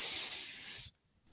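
A sizzling sound effect plays as a loud, bright hiss lasting under a second, then cuts off abruptly into silence.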